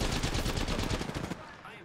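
Close, loud automatic gunfire in an Apex Legends or Call of Duty match, a fast rattling burst of shots that stops after about a second and a half and fades into a quieter tail.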